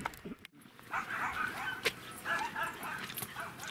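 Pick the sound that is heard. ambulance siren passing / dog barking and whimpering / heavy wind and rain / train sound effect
dog barking and whimpering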